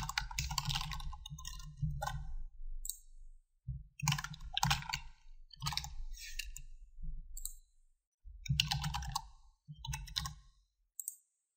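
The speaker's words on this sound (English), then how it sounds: "You can do this by just typing in the text that you want." Typing on a computer keyboard while entering text into a Microsoft Visio 2013 chart, heard as bursts of quick, close key clicks separated by short pauses, with no talking.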